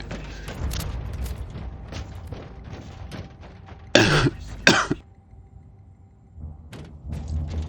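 A couple of harsh, loud coughs stand out over a constant background of Warhammer video game noise, close to the microphone.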